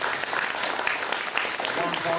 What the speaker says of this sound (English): Let's give a warm reception and applause to Dato' Ambiga Srivan Srinamas here.